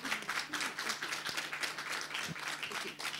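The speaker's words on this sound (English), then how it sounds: "Let's applaud her." Audience applauding a speaker at a talk, quiet rhythmic clapping from many hands heard from a distance, steady throughout with a low hum underneath.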